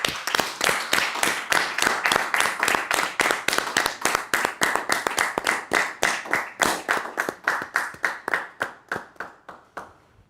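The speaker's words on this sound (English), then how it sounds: "Let's clap for everybody." A small audience at an asthma awareness day event claps in unison, one loud, even beat after another in a steady rhythm for about ten seconds, slowing and fading slightly at the end.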